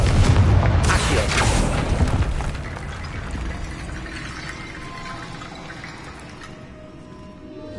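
A Confringo fire spell explodes inside a tomb in the Hogwarts Legacy video game: one loud deep boom that rolls into a long, fading rumble with dripping, watery echoes and no speech.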